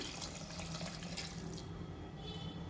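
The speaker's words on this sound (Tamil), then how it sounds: "தண்ணி சேர்த்துக்கிறேன்" Water pours steadily into a cooking pot of horse gram gravy, a constant close splashing flow with a small clink at the very end.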